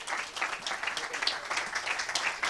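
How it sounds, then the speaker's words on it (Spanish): An audience applauds at a public event in Spain, giving steady, moderately loud clapping that lasts throughout without pause. "Voy a pedir un aplauso para el alcalde de Galapagar, para el juez Elpidio Silva"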